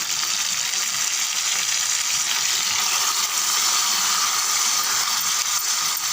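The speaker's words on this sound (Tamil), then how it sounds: "இங்கே பாருங்கள், நம்ம கட் பண்ணி வச்சுருக்க தக்காளியை அப்படியே சேர்த்துருங்க." Chopped tomatoes fry in a pan for tomato chutney with a steady, loud, unbroken sizzle that stays even throughout, with no talk.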